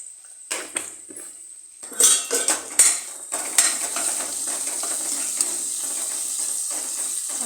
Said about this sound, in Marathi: मला पूर्ण आता ढवळून घ्यायचं आहे.